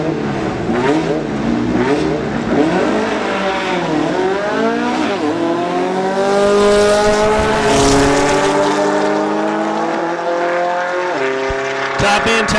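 A 1966 Volkswagen drag racing car at a Farmington drag strip in 2007 roars down the track, its engine rising in repeated revving sweeps through gear changes, loud and sustained, ending with sharp crackles.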